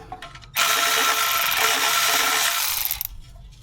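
A tool works the oil pan bolts of a leaking VW, giving one steady close whirring burst of about two and a half seconds, then rapid clicking as it winds down.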